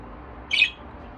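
A breeding bird lets out a single short, sharp squawk, close and fairly loud, over a steady low background hum.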